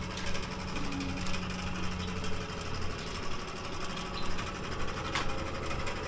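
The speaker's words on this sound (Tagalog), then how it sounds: "Yung maingay aircon." A noisy air conditioner runs steadily in a home in Angeles, Pampanga, giving a constant rattling mechanical hum with a faint pulsing vibration throughout and no pauses.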